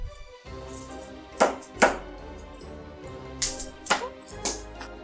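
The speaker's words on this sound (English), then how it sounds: "We're just going to thinly slice them and add them into our cauldron." A knife thinly slices garlic cloves on a cutting board, sharp irregular chopping taps, some clustered in pairs, close and clear against a quiet kitchen background.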